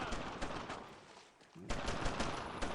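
Rapid gunfire from the World War II shooter game Brothers in Arms crackles in quick bursts, dipping briefly before a louder barrage resumes, fairly faint overall.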